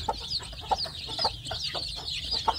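Newly hatched village chicks in a box cheep while being fed, their thin high peeps repeating in quick irregular bursts, close and fairly soft over a low background hum.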